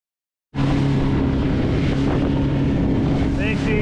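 A sailboat under engine power with its sails dropped, heard as a steady motor hum beneath heavy wind buffeting on the microphone. The sound begins abruptly after a short silence, and a voice talks briefly.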